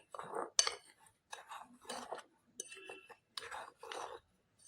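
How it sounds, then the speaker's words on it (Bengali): Gram flour and semolina stirred together in a bowl for potato pakora batter, giving quiet intermittent scraping and clinking of a utensil against the bowl in short bursts, with soft breathy sounds between. "এখন এই দুইটাকে ভালো করে মিক্সড করতে হবে"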